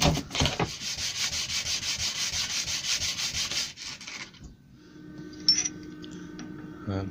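Wood is hand-sanded with finer-grit sandpaper in a workshop, heard as rhythmic back-and-forth rubbing strokes, close and fairly loud for about four seconds, then stopping and leaving quieter workshop sounds.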